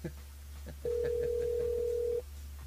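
A single long ringback tone sounds on a telephone line during a live radio call-in, one steady beep of over a second, loud and clear against faint background with some quiet chatter before it.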